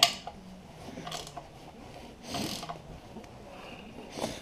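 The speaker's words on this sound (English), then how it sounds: "Then the same bolt on the other side, I'll tighten that one up." A ratchet tightens bolts while a Powerglide transmission is installed, producing faint, close clicking and rasping bursts at irregular intervals against a quiet background.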